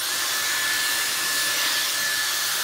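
A Dyson Airstrait, working as a blow dryer and hair straightener in one, blows a steady, loud, unbroken rush of air with a faint high whine and no talk.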